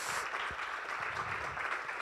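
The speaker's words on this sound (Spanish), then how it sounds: "¿Cuántos le pueden dar un aplauso a Dios por esto?" Church congregation clapping, a short soft patch of applause heard from some distance.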